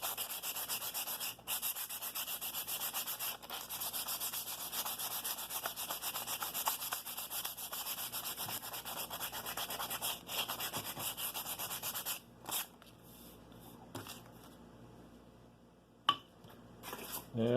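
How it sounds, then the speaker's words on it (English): Coarse 60-grit sandpaper worked by hand over a wooden scroll-saw mallet, a steady close rasping scrub that runs continuously for most of the stretch, then thins into a few lighter strokes and handling noises near the end. "So I just used some 60 grit sandpaper here and just work this over real well."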